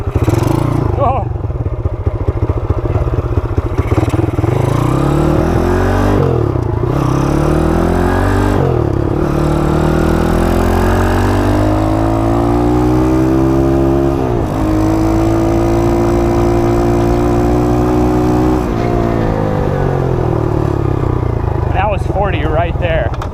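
A Honda CT70 mini bike with a swapped-in 140cc engine rides hard, loud and close throughout, its engine revving up repeatedly through the gears with rising and falling pitch and short throttle breaks.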